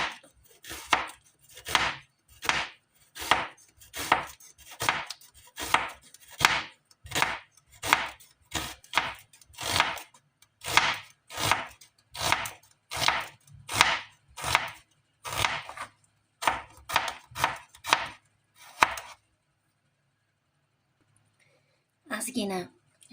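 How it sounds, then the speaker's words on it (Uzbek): An onion is chopped with a knife on a board in a steady, quick series of close, crisp cuts that run for most of the stretch, then stop, followed by one short scrape. "Dimlanib tayyor bo'lguncha bir dona piyozimizni maydalab to'g'rab olamiz."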